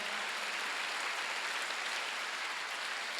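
A church congregation at a Sunday worship service applauds in a steady, even wash of clapping that holds at the same level throughout, with no talking.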